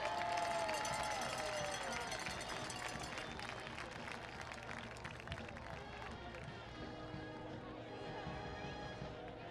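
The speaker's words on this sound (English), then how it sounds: "please give Kendall a round of applause" Crowd applause and cheering at a high school football game in Otsego, a dense steady wash of clapping and voices throughout, with a whistle-like tone early on.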